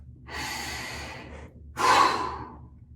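One person takes a deep, audible breath: a long airy inhale, a short pause, then a stronger, louder exhale close to the microphone.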